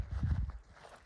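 Soft hoof clops from a working horse walking nearby, a few muffled steps at a slow pace, fading slightly toward the end.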